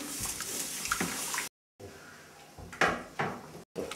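Hands squeeze and knead moist yak cheese curd, giving wet squelching presses and soft slaps in a few bursts, close up, with brief silent gaps in between.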